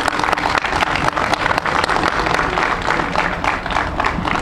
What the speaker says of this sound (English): Let's give a nice round of applause to our county executive.